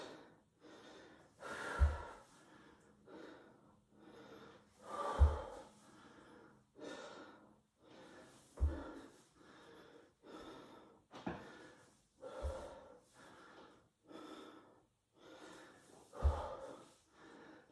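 Deep, heavy breathing during a home workout: slow, loud inhales and exhales repeating about every three seconds, with a sharp gasp on several breaths, close to the microphone and with no talk.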